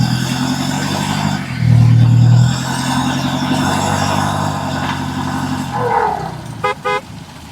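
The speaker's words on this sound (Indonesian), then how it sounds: "truk oleng tetap kuat melanjutkan perjalanan menuju tujuan" A swaying Indonesian 'oleng'-style truck hauling vegetables drives along a road, its engine droning steadily and swelling briefly, before a couple of sharp horn toots sound near the end.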